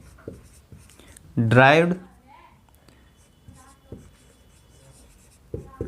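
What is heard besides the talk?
writing on a board during a physics lecture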